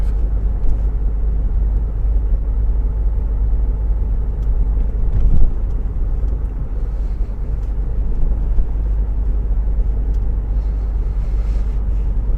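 A car drives steadily along a road in a 30 mph zone between Hythe and Folkestone, with a constant low engine and road rumble, some wind buffeting, and no talking.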